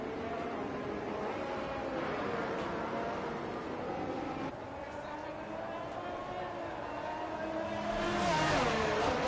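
Formula race cars roar around the Miami circuit in a PlayStation racing game, a steady engine drone that swells near the end.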